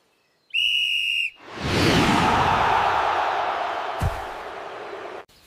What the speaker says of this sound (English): Then the whistle blew, and Blaze was gone.